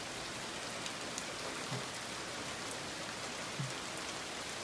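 Steady rain falls at night, a dense even hiss of drops on surfaces close by, with a couple of faint low thuds and occasional sharper drips standing out.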